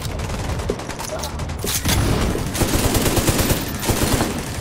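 An automated turret fires in The Division 2 video game, a dense continuous rattle of gunfire with rapid overlapping shots, loud and up front, with a voice talking over it.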